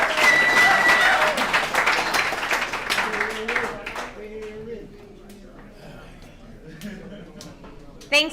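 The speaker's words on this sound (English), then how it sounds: "Let's give Darren another round of applause." An alumni meeting audience at a recovery services gathering gives a loud burst of applause that fades out over about three seconds, followed by a person talking in the room.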